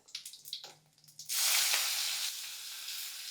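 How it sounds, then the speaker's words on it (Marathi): Mustard seeds splutter and crackle in hot oil, a dense continuous sizzle that starts abruptly after a few soft clinks and holds steady, close and fairly quiet, with no talking. "मोहरी आधी छान तडतडू द्या"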